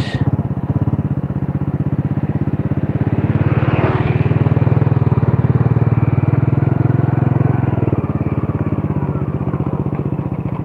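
Honda Grand motorcycle engine running hard at high speed, a steady, dense buzzing drone with wind rush that swells slightly midway, loud and continuous throughout with no talk.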